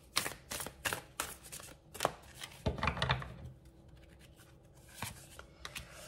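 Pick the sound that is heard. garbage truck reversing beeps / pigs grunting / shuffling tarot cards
shuffling tarot cards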